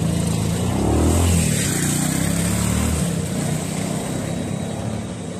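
A Mercedes-Benz car drives past on a street in South Korea, a broad swelling road roar that peaks then slowly fades amid traffic noise.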